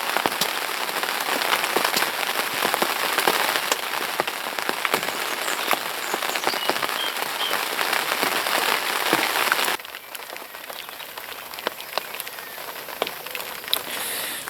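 Steady rain patters on a fishing brolly beside a lake, a dense continuous drumming of drops close overhead that drops slightly softer partway through and carries on without any voices.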